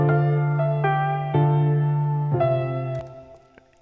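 Three lo-fi pianos layered with a vibrato effect chain play sustained chords together, wavering and mellow, with several soft note changes over a few seconds.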